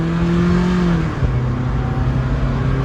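A small 1.8-liter double overhead cam engine with variable valve timing revs loudly and steadily nearby, its pitch dropping partway through before settling into a constant drone.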